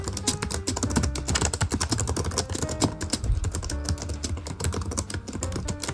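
Fast, steady typing on the keys of an older laptop keyboard whose keys need fairly firm pressure, a dense run of close, crisp clicks and taps with no talking.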